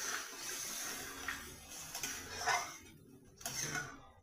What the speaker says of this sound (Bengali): এবার আমি আগের থেকে গরম জল করে রেখেছিলাম, ওইটা দিয়ে দিচ্ছি।